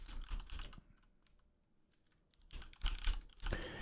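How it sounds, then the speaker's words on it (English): Rapid clattering keystrokes on a computer keyboard, close and crisp, in two bursts separated by a quiet pause of about a second and a half. "Yep, hear my typing."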